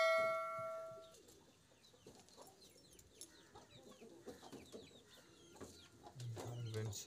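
Several chickens cluck and chatter close by in a coop, with a few rising squawks and a brief low noise near the end.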